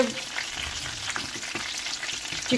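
Chicken burger patties fry until crispy, producing a dense, close sizzle with light crackling and a few stirring scrapes over a few seconds.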